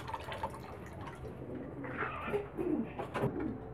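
Pigeon squabs cooing softly, with low, faint coos near the end over a quiet background that carries some light dripping and rustling.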